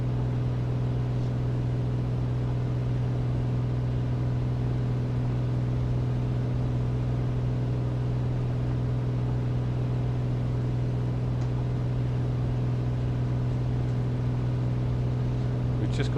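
A Piper Comanche 250 in Microsoft Flight Simulator runs at full throttle, a constant loud low droning hum with a steady tonal buzz throughout, unchanging for the whole stretch.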